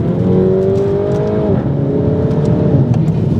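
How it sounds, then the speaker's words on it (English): A Mini Cooper S turbo four-cylinder engine revs and accelerates loudly with a rising whine, then settles into a steady drone as it pulls away. "I love the sound of the engine. It sounds absolutely fantastic from behind."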